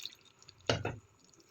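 Hot water is poured into mutton curry cooking in a pot: a single short splashing burst of liquid, close and moderately loud, lasting under half a second against a quiet background.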